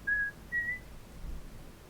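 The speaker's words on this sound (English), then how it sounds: "Wonky whistle." Two short wavering whistled notes, thin and somewhat off-pitch, faint over a low background hiss with no talking.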